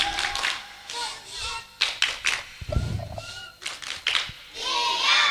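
A group of children at an Indonesian religious talk perform the tepuk diam clapping chant, with sharp bursts of clapping mixed with voices chanting in rhythm and brief pauses between the rounds.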